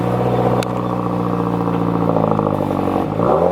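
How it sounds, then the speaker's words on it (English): Several cars rev as they pull away from a car meet that included a Subaru WRX and a GT-R, a loud continuous engine drone with rising and falling pitch sweeps and some clatter, close by throughout. "You can hear a few cars revving it up a little bit as they're leaving"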